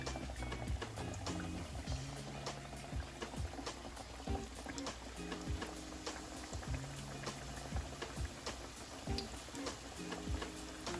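Several kachoris fry gently in oil on low heat with a soft, steady bubbling sizzle and scattered clicks, heard up close at low volume.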